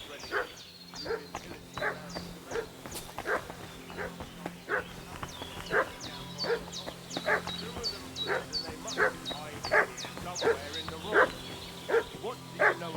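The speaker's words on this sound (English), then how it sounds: "What's that dog making such a fuss about?" A dog barks repeatedly in Kingdom Come: Deliverance II, steady sharp yaps at a moderate distance continuing throughout, with a low ambient hum underneath.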